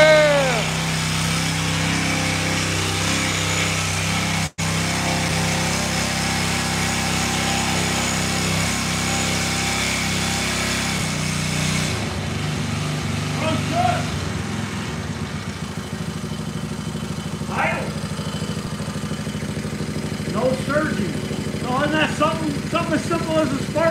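A Jari sickle bar mower engine cranks, catches and runs with a loud, steady small-engine drone that shifts in tone partway through, close by with voices talking over it.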